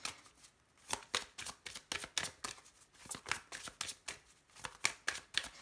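Tarot cards being shuffled for a reading, with repeated riffling bursts in a loose rhythm of roughly two per second, close and clear, with no voice over them.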